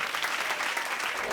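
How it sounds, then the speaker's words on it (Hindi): Applause from an audience for a performer, a dense wash of many hands clapping at moderate level, brief and continuous. "ये जोरदार तालियां इस हमारे कलाकार के लिए।"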